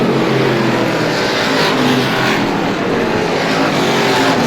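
Race cars roar around the oval at Star Speedway during a Woody's Fast 40 event, a loud, continuous engine drone with slight swells as cars pass nearby.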